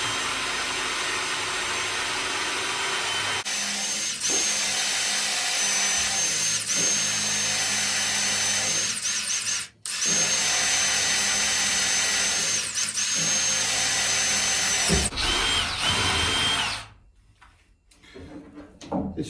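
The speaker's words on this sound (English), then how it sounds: "This drill really is doing a lot of work." A power drill bores into the 5mm-thick steel subfloor of a narrowboat with a loud, sustained whine that runs for long stretches, breaking off in brief pauses and restarts before it winds down near the end.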